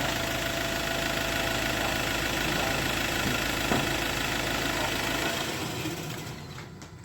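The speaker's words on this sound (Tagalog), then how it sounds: "Patayin muna natin yung makina guys" A Ford Ranger 2.2 4x4 pickup engine idles steadily with a low rumble and faint knocking, then winds down and fades out near the end.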